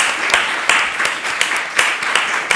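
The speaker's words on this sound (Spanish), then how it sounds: "Les quiero pedir un gran aplauso para ellas." An audience applauding at a talk about women's art in Valparaíso, a brief burst of crowd clapping in which some individual sharp claps stand out from the steady patter.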